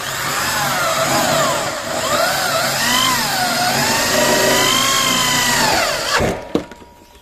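A power screwdriver drives short screws into light steel framing for a container-style partition, a loud close whine that rises and falls in pitch as it spins, ending with a sharp clack.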